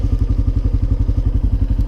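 A Honda Foreman 450 ATV with a 60-inch plow blade shoves through a deep snow drift, its engine chugging in a steady, loud pulsing rhythm close by, with faint clatter over the top.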